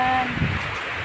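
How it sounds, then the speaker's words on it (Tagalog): Steady broadband hiss of rain falling outdoors in a rural area, a constant even wash of sound at moderate level with no clear individual drops, after a brief tone at the start. "Umulan na naman."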